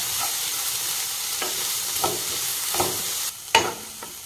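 Sliced onions fry in a pan until translucent, hissing with a steady sizzle while a spoon scrapes and clinks through them in a few short strokes near the end.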